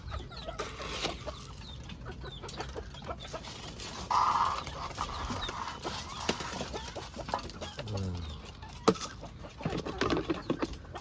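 Pet bantam chickens cluck softly and keep it up throughout. Faint rustles and a few louder pecks and scrapes can be heard close by, all quite quiet overall.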